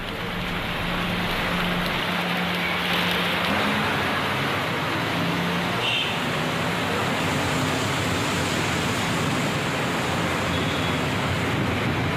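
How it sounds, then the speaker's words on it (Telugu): Heavy rain pours steadily over parts of Rajendranagar in Rangareddy district, Telangana, as a dense, even hiss that holds at one level throughout with no pauses and no voices. "రంగారెడ్డి జిల్లా రాజేంద్రనగర్ నియోజకవర్గం పరిధిలోని పలు ప్రాంతాల్లో భారీ వర్షాలు కురుస్తున్నాయి"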